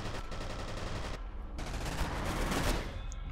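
Rapid automatic gunfire while shooting enemies in the shooter game F.E.A.R., dense, loud and continuous bursts with a brief lull midway before firing resumes, no voices.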